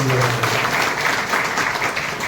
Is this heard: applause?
yes